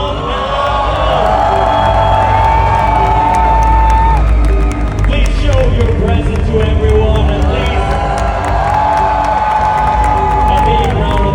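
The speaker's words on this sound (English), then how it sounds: "Let's give a huge applause for Jason Blum and Blum House." A large event audience applauds and cheers for producer Jason Blum of Blumhouse in a sustained, loud roar under an amplified announcer's voice, with music sounding through the crowd noise.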